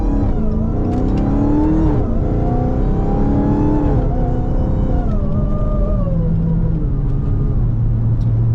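A Dodge Charger Hellcat in track mode rumbles loudly from inside the car in heavy traffic, its deep engine note rising and falling through gentle throttle changes with a steady whine on top.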